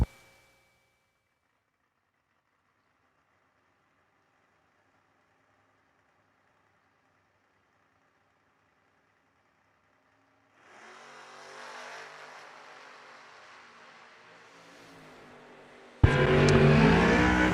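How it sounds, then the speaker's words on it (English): A 1968 Chevy Camaro drag race car at a drag strip event: after a long quiet stretch, a low engine rumble builds and holds, then a sudden loud, broadband blast of full-throttle revving and launch fills the last seconds. "Next up, right-hand side, Morgan Carroll in the 68 model Chevy Camaro."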